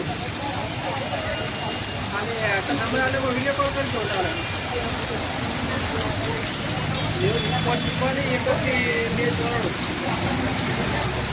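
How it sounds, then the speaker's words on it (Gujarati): Heavy rain pours steadily in Patan, a dense continuous hiss and patter throughout, with voices talking faintly underneath. "અતિ ભારે વરસાદ પાટણમાં પડે રહ્યો"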